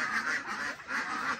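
Runner ducks quack in a close, loud chorus, with several overlapping nasal calls coming in two bursts separated by a brief dip.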